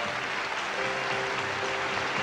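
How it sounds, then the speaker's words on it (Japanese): Audience applause in a hall after a magician turns something into a red handkerchief, a steady dense wash of clapping at moderate loudness with no voices over it. "場内の拍手何やみません"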